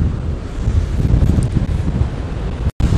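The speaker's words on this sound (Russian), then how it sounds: "Ну, ветер прям сильнейший." Strong wind on the beach, a loud continuous roar buffeting the microphone, with surf rumbling underneath and one very brief dropout near the end.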